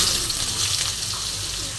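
Vegetables, including papaya and potato, drop into hot oil in a wok already tempered with nigella seeds, giving a steady, close hiss of sizzling that runs unbroken for the whole stretch with no talk.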